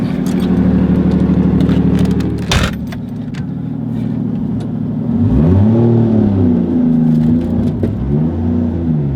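A Mazda RX-7 FD3S fitted with a 1JZ engine idles loudly with a jangle of keys, a brief clatter, then revs rise and fall as it pulls away.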